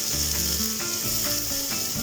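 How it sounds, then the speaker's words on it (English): Onions softening in generous olive oil, a dense close sizzle with a bright hiss and faint clinks of stirring, with no voices. "start softening them down"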